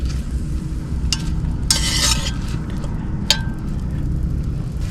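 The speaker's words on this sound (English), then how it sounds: "I'm going to cook and stir this until the butter is melted and the vegetables we have in here softened." Vegetables cook in melted butter in a pan while being stirred, giving a soft steady sizzle with a few sharp scraping bursts from the spoon, close and alone.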